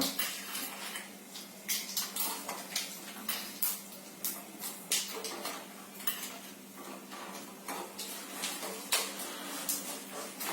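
Four dried red chillies dropped into hot oil for a tempering sizzle in a pan while a mango-coconut chutney is being made, with steady frying hiss broken by repeated clinks and scrapes of a utensil against cookware.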